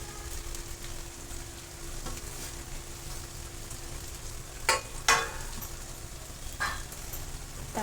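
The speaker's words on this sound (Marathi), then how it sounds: "आपण याला व्यवस्थित परतून घेणार आहोत." Stuffed bitter gourd (karela) masala sautéing in a pan, giving a steady, even sizzle throughout with a few sharp clinks of a spoon against the pan near the end.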